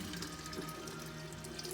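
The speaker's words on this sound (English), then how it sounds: "So I just take this bottle and pour it through this strainer and into the next bottle" Kefir water poured from a bottle through a strainer into another bottle beside a kitchen sink, a steady faint trickling stream running evenly throughout.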